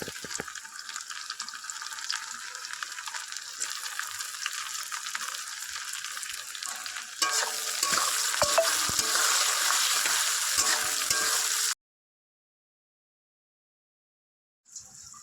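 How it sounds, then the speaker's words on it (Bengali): Chopped tomatoes fry in a spice mixture for a fish roe curry, giving a steady close sizzle that grows louder and harsher partway through, then cuts off into silence with a brief sound at the very end. "এবার টমেটো কুচিগুলো দিয়ে দেবো।"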